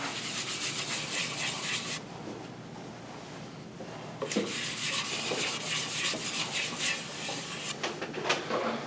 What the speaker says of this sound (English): I'm going to use Axe abrasive paste, just a buffing towel.